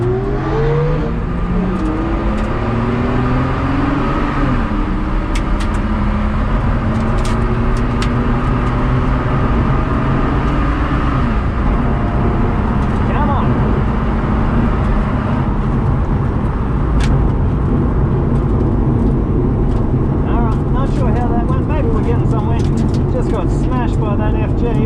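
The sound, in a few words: stock Barra-engined car making a drag strip pass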